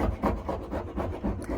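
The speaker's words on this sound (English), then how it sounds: "You can hear him scraping away." Steady rasping scrapes of a hand scraper stripping old paint from the body of a Toyota Coaster bus, repeating in an even back-and-forth rhythm at moderate level, fairly close, with no talking.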